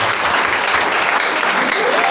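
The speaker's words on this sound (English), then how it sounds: "Is that how you clap for Jesus?" Many hands in a church congregation clap together in a loud, steady, sustained burst of applause.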